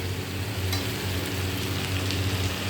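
Ground spices sizzle in hot oil in a pan, a steady close crackling hiss that stays even and moderately loud throughout, with no voices.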